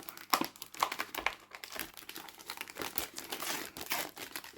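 A paper envelope is crumpled and torn into pieces for a garden compost pile, giving close, irregular crinkling bursts and short ripping sounds with brief pauses between them, with no talk.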